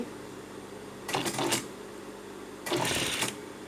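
A sewing machine stitches a flat seam while taking in a garment's waistband, running in two short bursts of rapid mechanical whirring with a quiet pause between them.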